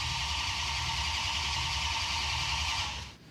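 A new Hemi V8 in a Mopar muscle truck cranked by its starter on a weakening battery, a steady rhythmic grinding churn that runs continuously before abruptly stopping.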